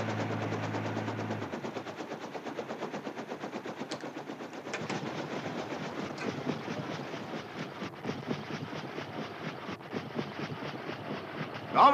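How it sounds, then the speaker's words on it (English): A train in a TV sitcom rolls past with steady, rhythmic clickety-clack of wheels over rail joints, loud and close, beginning with a low rumbling hum. "we just passed a train"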